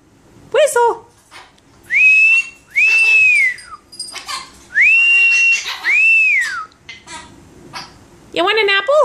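A mitred conure parrot gives a series of four loud, close, arching whistles, alternating with a person talking before and after the whistling.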